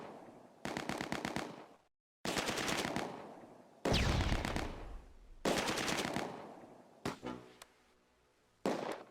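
Machine guns rattle in loud, sustained bursts during a Close Combat: A Bridge Too Far battle, several long volleys separated by short silences, ending in scattered shots.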